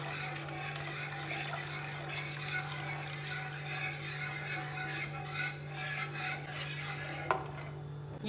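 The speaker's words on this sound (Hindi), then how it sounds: "हम थोड़ा थोड़ा दूध डाल के थोड़ा थोड़ा मिक्स कर रहे हैं" Milk is stirred a little at a time into a white sauce for chicken pasta, giving a steady, close scraping and swishing of a spoon in a pan over a constant low hum, with no talk.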